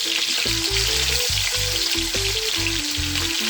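Turkey wing pieces fry in oil in a pot for Jamaican stewed turkey wings, a constant loud crackling sizzle close up, with a rhythmic low knocking pattern running beneath it.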